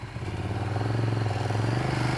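A Ducati Streetfighter 848 motorcycle engine, a superbike-derived unit, runs close and loud with a steady, throbbing exhaust note that holds at a constant pitch for a couple of seconds.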